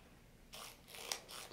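The aperture ring of a Fujifilm XF 14mm f/2.8 lens turns with a series of close, faint ratcheting clicks, three or four short bursts of detent clicks in a quiet room.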